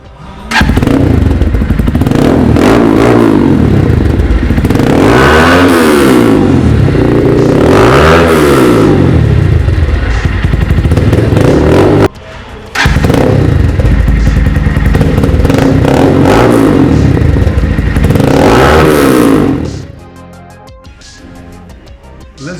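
A Taro GP One motorcycle with a reworked exhaust revs repeatedly, loud and close, its note rising and falling in rhythmic swells with a brief cut near the middle before settling back to idle.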